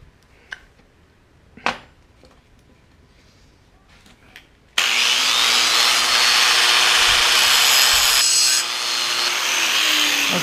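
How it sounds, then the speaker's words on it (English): Grinder on the steel tang of a Bowie knife, a few light taps and clunks before a loud, steady abrasive grinding whine starts and holds for about six seconds, shifting slightly near the end. "Yeah, I'm gonna have to grind it down."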